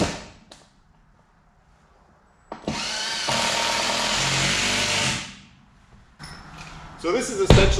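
A power drill drives a structural screw into 2x8 lumber for a shop mezzanine, a short burst followed by a loud sustained whir of about two and a half seconds as the screw sinks in, then quieter handling noises.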